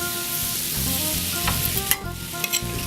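Black tiger shrimp sautéing in butter seasoned with salt, pepper, paprika and nutmeg, giving a steady close sizzle with a few sharper pops and clinks.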